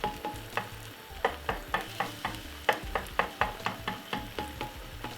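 Egg roll vegetables stirred and scraped around a pan with a spatula, a steady run of sharp rhythmic scrapes about every third of a second over a soft sizzle, close and clear.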